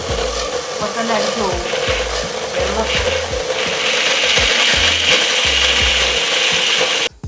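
A mixer grinder spins a heavily loaded masala with a stock cube for chicken shawaya, giving a steady harsh whirring grind with repeated low knocking thumps, loud and close throughout.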